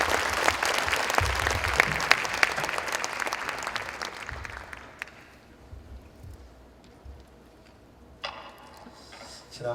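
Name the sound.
church congregation applause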